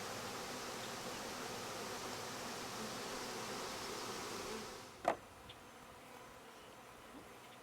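Honey bees swarm around a hive, a steady, dense insect hum filling the scene before dropping away near the end, with one sharp close knock or tap standing out.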